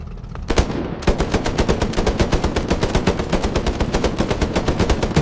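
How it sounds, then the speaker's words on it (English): An anti-aircraft gun fires in a rapid, loud, steady burst of shots at the armor of a Ferdinand tank in a video game, with one opening shot before continuous fire. "try to penetrate the armor using an anti-aircraft gun"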